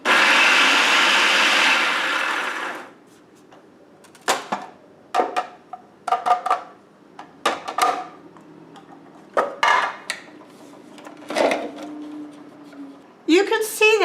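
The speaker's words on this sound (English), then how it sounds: "I'm just going to grind up, making a very fine powder, my raspberries" An electric grinder whirs loudly for a few seconds, reducing raspberries to a fine powder. It then stops, followed by a series of sharp knocks and rattles as the container is tapped and handled.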